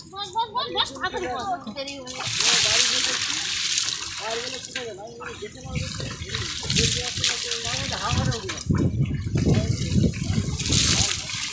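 Water is poured and splashed over people being bathed late at night at a family home during a Shani puja, with gushing bursts under lively overlapping talk and shouts.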